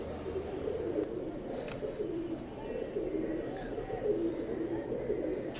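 A pair of imported Teddy pigeons of Oman bloodline coo softly, a faint, low murmuring that rolls on steadily with voices talking in the background.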